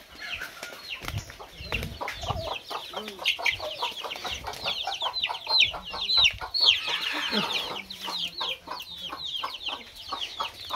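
Chickens on a poultry farm cluck and chatter continuously, many birds overlapping at close range, with brief bursts of wing flapping among the flock.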